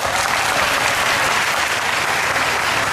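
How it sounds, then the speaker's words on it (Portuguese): A Seventh-day Adventist church congregation applauds its newest members, a full, steady wash of many hands clapping throughout with no speech. "Com palmas em nome do Senhor."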